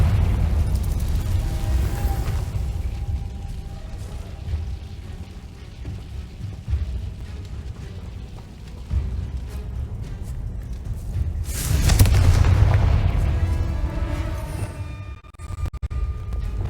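Confringo spell explosions in the Hogwarts Legacy video game, heard as rumbling blasts over a continuous low game soundscape, with one big boom near the end.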